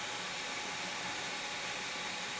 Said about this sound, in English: So we'll need the vacuum cleaner.